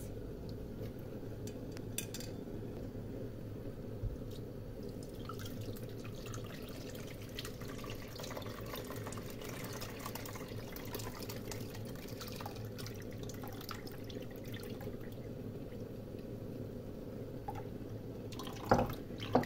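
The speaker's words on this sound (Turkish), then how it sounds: "Çekirdeklerinden süzeceğiz arkadaşlar." Cherry juice dripping as it is strained from the pits, a steady soft trickle of drops with faint clinks of kitchenware, continuous and close throughout.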